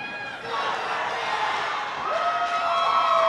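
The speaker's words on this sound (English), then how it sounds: "trying to speak over the crowd here." A packed rink crowd at a high school ice hockey game roars and cheers steadily, loud and sustained with shouts and whistles rising over the din.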